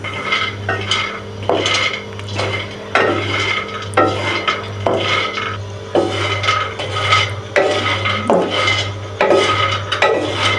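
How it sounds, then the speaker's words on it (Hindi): Phool makhana fox nuts are dry-roasted in a pan, with repeated close, loud scraping and rattling stirring strokes in a steady rhythm over a low constant hum. "अब इसमें डालेंगे ये फूल मखाने, और इनको हमने करना है थोड़ा सा बस ड्राई रोस्ट करना है"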